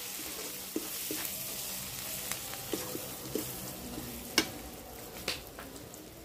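Jackfruit frying in a pan, a soft steady sizzle with scattered clicks and scrapes from a stirring utensil, one sharper knock standing out.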